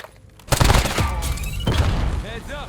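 A loud, booming grenade blast hits hard and rumbles on through a chaotic video-game firefight, with gunfire crackling around it while a voice talks over the din.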